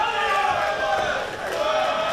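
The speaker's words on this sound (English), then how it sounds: "And you could hear the crowd starting to get behind Chris Marvelous." Wrestling crowd at an indie pro wrestling show roaring and cheering in a steady, dense wash of voices, sustained and loud throughout with no single voice standing out.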